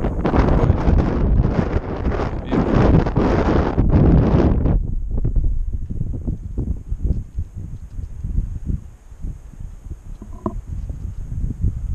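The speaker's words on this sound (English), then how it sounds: "Bit windy." Wind buffets the microphone in heavy rumbling gusts on the Appalachian Trail near McAfee Knob, strongest at first and then easing to a lighter, steady blow.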